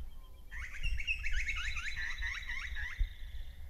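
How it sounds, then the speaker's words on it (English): A splendid fairy wren's quick, high, repeated trill runs over the lower call of a predatory butcherbird, both close and clear in a natural recording lasting a few seconds. "that's the splendid fairy wren singing on top of the predator."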